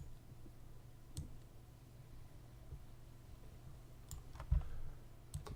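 Sparse, faint computer mouse clicks during keyframe animation work, a few isolated sharp ticks spread over a quiet room-tone hum, with no talking.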